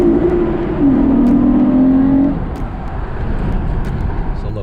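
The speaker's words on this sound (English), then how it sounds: "the car engine was definitely more aggressive" A car engine fitted with a Ktuner V2 tune and Takeda intake revs up loudly and holds for about two seconds, then settles back to a rough idle.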